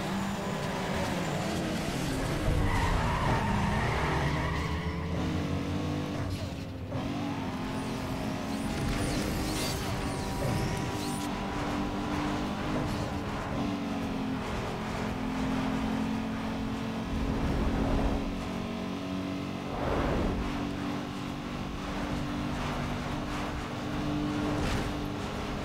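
Turbocharged tuned car from the video game Need for Speed Underground 2, engine roaring loud and steady with gear changes, whooshes and tire noise throughout.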